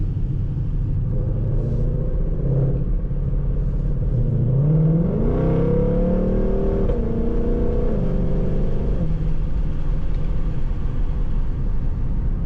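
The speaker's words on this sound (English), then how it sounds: "let you hear the exhaust a little better" A 2021 Ford Mustang Shelby GT500's deep, rumbling supercharged V8 exhaust swells as the engine revs up and settles back to a steady growl, loud and close.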